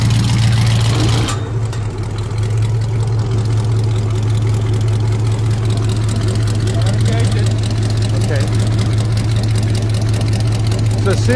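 A frost protection fan's engine warming up, giving a loud, steady idling drone with a deep hum that holds close and unchanged throughout.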